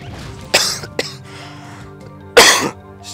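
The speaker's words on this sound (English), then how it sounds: "Cough." Two sharp coughs from a person playing a game, one near the start and a stronger one near the end, with a small click between and a faint background hum.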